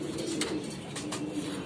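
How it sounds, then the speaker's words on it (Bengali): Fantail (Mayurpankhi) mutation pigeons coo steadily at a farm, soft repeated cooing close by with faint chirps mixed in, with no talk. "ময়ূরপঙ্খীর মিউটেশনের কবুতর"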